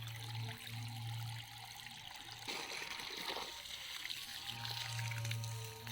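Water running from a hose onto apple trees in an orchard, a steady trickling flow with a low rumble that surges midway and stays fairly close.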